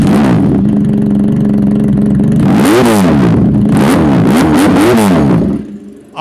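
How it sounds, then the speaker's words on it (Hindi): A 400cc motorcycle engine idles loudly up close, then revs hard several times in quick bursts before cutting off abruptly. "बाइक का 400cc है तो ऐसा साउंड तो होना ही चाहिए था"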